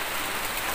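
Rain falls steadily around a hut on a hillside, a soft even hiss of drops on surfaces, heard alone for a brief moment.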